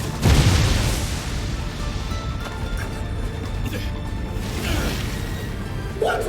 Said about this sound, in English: What's with that huge explosion in the back? That was way more powerful than it should be!